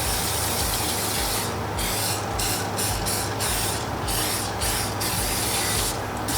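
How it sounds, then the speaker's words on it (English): Olive oil cooking spray hisses onto a dish in several quick bursts of varying length, close and steady over a dense background. "I'm gonna just spray it with olive oil cooking spray, just so it's easy to slide out"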